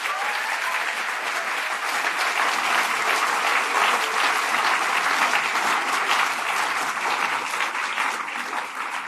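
Audience at the NSW Literary Awards applauds shortlisted writers and winners, loud, sustained, even clapping from a full room that holds steady for several seconds with no talking.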